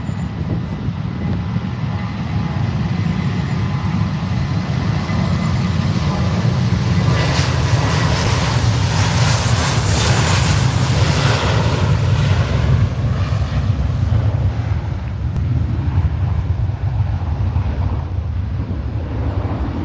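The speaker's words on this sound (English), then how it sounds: "Turkish A321 on the roll" A Turkish Airlines A321 rolls for takeoff at Manchester Airport, its jet engines a loud, sustained roar that swells and then slowly fades.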